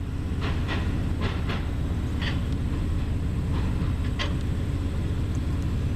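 A Herzog maintenance-of-way train loaded with rails rumbles steadily nearby through Ladysmith rail yard with low droning noise and a few scattered metallic clanks over its continuous roll.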